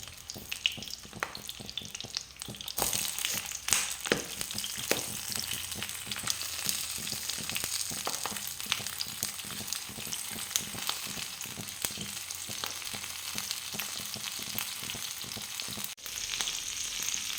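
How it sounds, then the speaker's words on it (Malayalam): Karimeen pearl spot fish frying in hot oil in a pan, a continuous close sizzle and crackle with a louder burst of spitting early on, then a steady hiss broken by a few small pops. "എണ്ണ ചൂടായിട്ടുണ്ട്. അതിലേക്ക് നമുക്ക് മീൻ പൊള്ളിക്കാനായിട്ട് വെക്കാവുന്നതാണ്."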